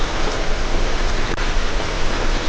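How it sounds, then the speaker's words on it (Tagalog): Steady rain falls outside in a dense, even hiss of broadband noise, loud and continuous with no voices or other sounds over it. "Umuulan sa labas."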